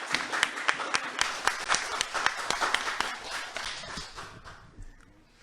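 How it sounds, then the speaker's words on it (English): Applause rises from an audience at an award ceremony, a dense spread of clapping with sharp individual claps that thins out toward the end. "Saad Yahya, please give a big applause to him."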